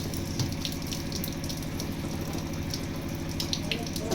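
Water from freshly cooked rice drains steadily through a kitchen strainer, a continuous close splashing gush with no voices over it.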